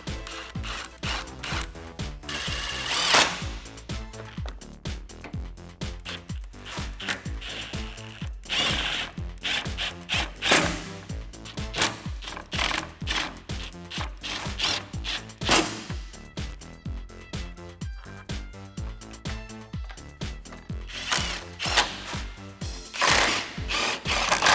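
Ratchet wrench driving bolts on a 1999-2004 Mustang headlight nose panel, loud rapid clicking bursts close up, repeated in quick runs with brief pauses between strokes.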